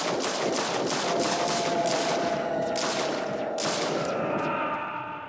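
Machine gun fire from the 1977 war film Cross of Iron rattles in rapid, loud sustained bursts, with a few separate sharp shots near the end before it fades slightly.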